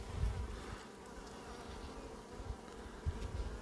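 Honeybees buzz steadily around an open beehive at an apiary, a close, continuous droning hum with faint shifting whines as individual bees pass near.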